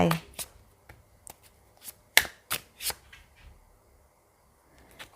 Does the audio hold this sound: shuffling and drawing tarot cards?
yes